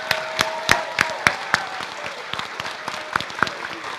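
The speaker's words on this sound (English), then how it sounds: "One more round of applause for our awesome senior class." An audience at a school jazz and concert band awards night applauds the senior class, scattered individual claps standing out over a soft, moderately distant patter of applause.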